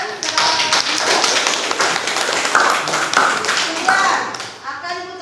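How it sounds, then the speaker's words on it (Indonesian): Classroom applause from a group of students: dense, steady clapping filling the whole stretch at a fairly loud level, with voices mixed in and a brief chatter as it tapers off at the end. "Beri tepuk tangan."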